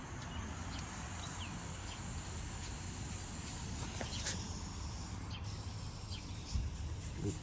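Penetrant lube sprayed onto a Subaru R180-R160 hybrid rear axle, a steady close hiss of aerosol spray running throughout with small clicks and handling noises.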